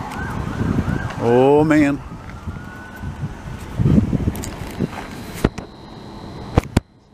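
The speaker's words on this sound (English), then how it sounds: "It's an ambulance." An ambulance siren sweeps up and down briefly and loudly on a street in Longueuil, Quebec, then fades under wind noise, with a short exclamation and a few sharp knocks.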